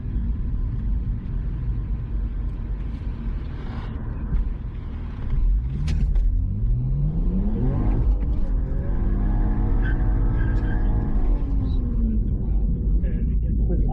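An ECU-tuned 2008-era BMW 335i E92 coupe with the twin-turbo N54 engine launches gently and accelerates, its engine note climbing in rising sweeps over a steady low rumble, close and fairly loud.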